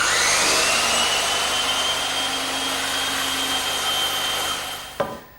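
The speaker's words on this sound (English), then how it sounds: "why waste a bandsaw when it's right here in the shop?" A bandsaw trims the narrow side of a wooden tenon for a garden bench, a loud continuous whining roar that holds steady, then drops away with a sharp clunk near the end.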